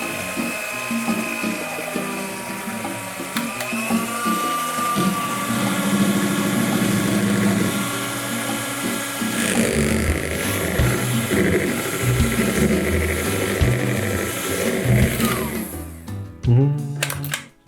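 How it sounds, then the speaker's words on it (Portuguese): An electric mixer whips chocolate ganache, its steady high motor whine and churning beaters running continuously for a long stretch before stopping abruptly near the end. "A gente vai bater essa ganache aqui para ela dar uma aerada, ela dar uma volumada e ela ficar mais cremosa."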